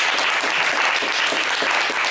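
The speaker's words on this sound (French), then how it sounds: "On peut les applaudir très fort." Studio audience at a French game show applauding loudly, a dense, even wash of clapping that stays steady and close for the whole moment without pause.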